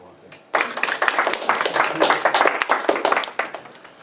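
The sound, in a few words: seminar audience clapping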